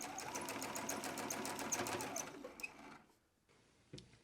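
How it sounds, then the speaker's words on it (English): A sewing machine stitches purse casings with a quarter-inch seam and backstitching, a close, rapid rhythmic whirring that slows and stops partway, followed by a brief pause and a short burst. "sew with a 1/4 inch seam allowance, and I am going to backstitch at the beginning and the end of each of my casings"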